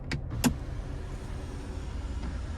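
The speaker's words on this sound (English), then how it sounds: "we do have a power sunroof with the Sun and Sound package, and we can tilt or one-touch slide that" Power sunroof sliding open on a 2024 Cadillac CT4, a low steady motor hum inside the cabin with a couple of light clicks at the start.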